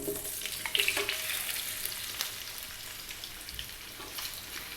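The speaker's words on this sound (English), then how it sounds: "Next, I will be dropping in my potatoes." Potatoes dropped into hot, spice-infused oil for aloo gobi sizzle steadily over medium-high heat, with a dense crackling hiss and a few sharper pops near the start.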